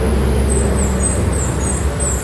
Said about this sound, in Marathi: गाड्या चालू बघा मोठ्या मोठ्या रोडला